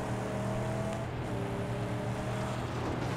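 A V6 car engine in the video game Mad Max hums at a steady idle with a low, even drone and faint tonal whine, fairly quiet throughout.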